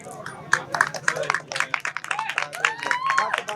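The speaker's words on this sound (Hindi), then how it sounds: "इनके लिए भरपूर तालियां" A small gathering of villagers in Lahore claps for a lawyer, a few sharp, uneven handclaps rising and mixing with lively, overlapping voices and shouts close by.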